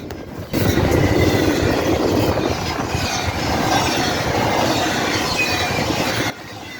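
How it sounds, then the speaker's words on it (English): A fast train roars past close by in Ohio, loud and continuous rumbling with rattling wheels for several seconds, then cutting off abruptly. "This train was going fast enough that I blew over my camera."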